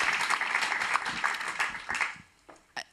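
Audience applause at a peace forum session on stage, a dense wash of many hands clapping that thins out and trails into a few scattered claps near the end.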